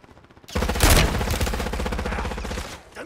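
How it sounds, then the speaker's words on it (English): Rapid automatic gunfire from the video game Call of Duty bursts in loud and close after a brief quiet start, then rattles on as a dense, continuous volley for about two and a half seconds. "I'm taking fire."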